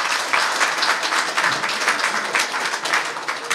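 Members of a Korean-American association general assembly clap to approve a motion, a brief, close burst of dense, uneven applause from a room full of people.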